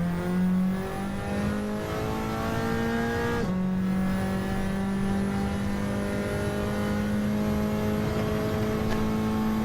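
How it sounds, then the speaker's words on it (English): Race car in a racing video game held in fifth gear down a hill, engine revving out loud and steady with a sustained high drone, a brief dip around a shift, then climbing again alone. "people were just keeping it 5th going down this hill, just revving out the engine"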